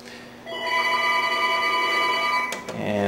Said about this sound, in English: And phone's ringing there